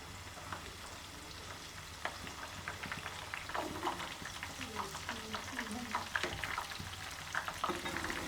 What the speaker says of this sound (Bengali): এদিকে আমি ভাজা শুরু করছি বেগুনে